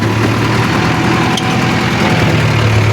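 A Mahindra farm tractor engine runs steadily at high revs, a loud close diesel drone with a constant low hum and no pauses, no talking over it.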